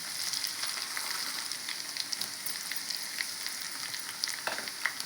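Mustard seeds, cumin, chana dal and dried red chillies sizzle in hot oil for a tempering, a steady crackling fry with small pops, close and moderately quiet, no voices.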